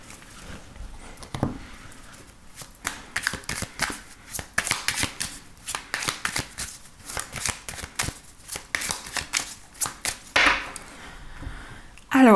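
Oracle cards being shuffled for a tarot reading, a steady run of close, crisp riffling and slapping bursts that keeps going, with a sharper handling knock near the end.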